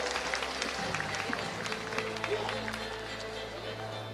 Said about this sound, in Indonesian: Boleh kita berikan tepuk tangan yang meriah sekali lagi Bapak Ibu